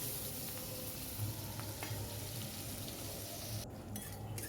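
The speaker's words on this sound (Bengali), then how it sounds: "পেঁয়াজটা ভাজা ভাজা হচ্ছে" Onions frying in hot oil with cumin and bay leaf in a home kitchen, a steady, even sizzle throughout with faint stirring and clinks, close and moderately quiet, no voices.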